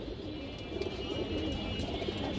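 Pigeons coo softly and low beneath a constant, noisy background wash, with no one speaking.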